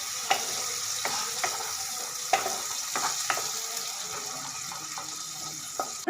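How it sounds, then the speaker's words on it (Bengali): Chopped onions fry in oil until they turn light brown. A steady, moderate sizzle runs throughout, with regular light clicks of stirring and no voices. "পেঁয়াজ কুচিগুলোকে লালচে ব্রাউন করে, হালকা ব্রাউন করে ভেজে নেব।"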